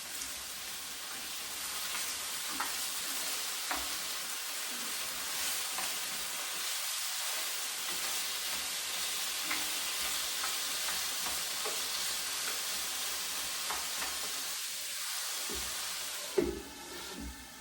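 Potato frying in a pan with ground pork, a steady close sizzle that hisses on and on with occasional stirring scrapes and a sharp clatter near the end, heard without talk.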